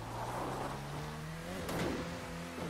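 Car engine revving hard as it accelerates in a video game, a steady loud drone with rising harmonics, a brief sharp burst partway through.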